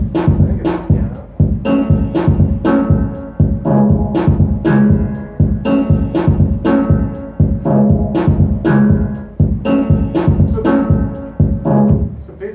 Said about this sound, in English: this piano thing is just a loop of a piano going over and over